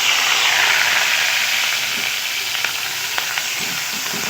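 Black cumin, ginger, garlic and onion paste fry in hot oil in a kadai, giving a loud, steady sizzle with faint stirring scrapes, close up and without voices.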